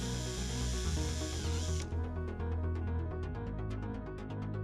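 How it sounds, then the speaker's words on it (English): A drill bores holes through an EQUITONE facade panel, a close, continuous whirring grind whose pitch shifts midway as the bit works through the material. "The panel must be pre-drilled with one-size holes."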